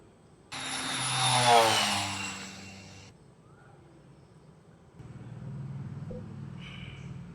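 Aircraft engine effect in the Avatar crash-style betting video game: a loud, bright whooshing roar swells for about three seconds, then drops to a steadier, quieter engine hum that continues to the end, with no one talking.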